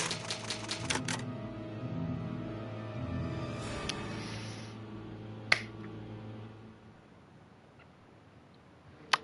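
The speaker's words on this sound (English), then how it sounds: "So now we're just going to use the old typewriter to save our game." In the Resident Evil HD video game, an old typewriter used to save the game gives a rapid run of mechanical key clacks, then a few isolated taps and a final sharp strike, set against a quiet ambient drone.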